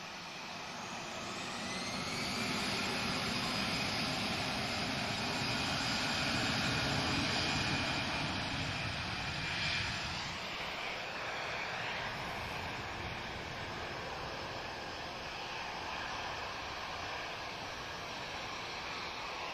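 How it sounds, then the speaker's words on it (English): An Airbus A320 airliner departing Lisbon Airport for Paris, a sustained jet engine roar that swells and then eases slightly as the aircraft passes, heard from outside at a distance with no voices. "this A320, he's off to Paris"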